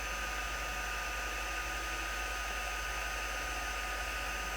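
An embossing heat gun blows with a steady, even hiss and hum, continuous and close throughout without pause.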